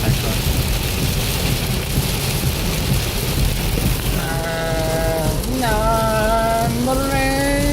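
A heavy daytime rainstorm in southern New York roars as a steady, loud wash of rain from start to finish, with high, wavering bleat-like animal calls rising over it in the second half.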